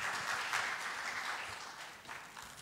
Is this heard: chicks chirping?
no